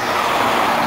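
A city bus approaching on a street in Warsaw's Żoliborz district, a loud continuous rumble of traffic and engine noise, brief and without any speech.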